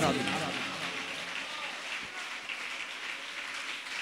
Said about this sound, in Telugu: గట్టిగా చప్పట్లు కొట్టి మనం లేపే ఏసయ్యను ఆరాధన